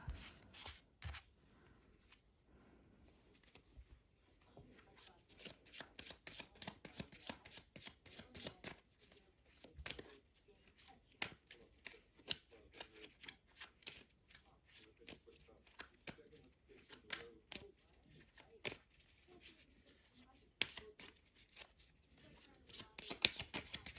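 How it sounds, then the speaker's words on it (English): A deck of art cards is shuffled over and over in quick riffling bursts of papery snaps and slides, close and fairly quiet, with soft talk in the background between the bursts. "Let's get a Bob Ross card."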